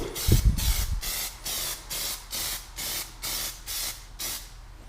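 Spray paint lays a light dust coat on a miniature in about nine short, even hissing bursts with brief gaps between them, close and fairly soft, after a faint low knock at the start.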